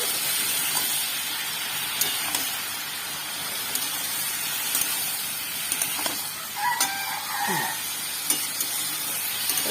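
Mushrooms fry with masala in a pan, giving a continuous broadband sizzle and hiss with scattered faint clicks and pops over about ten seconds.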